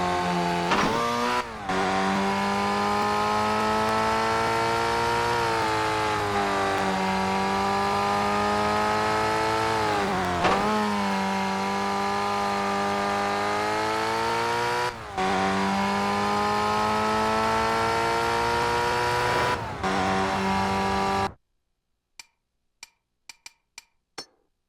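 Race cars in TOCA Race Driver 3 howl past in close pack racing, a loud sustained engine drone with repeated gear-shift dips and rising revs, ending abruptly in near silence with a few faint clicks.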